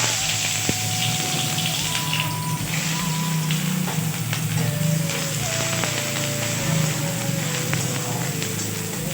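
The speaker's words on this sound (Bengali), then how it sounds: "তারপর আমি দিচ্ছি পেঁয়াজ কুচি" Chopped onion fries over low heat in a pan, a soft steady sizzle running throughout, with scattered faint clinks and kitchen sounds in the background.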